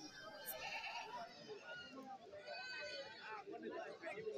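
Goats bleat repeatedly at a busy goat market in Kerala, several calls rising over steady crowd chatter and people talking nearby.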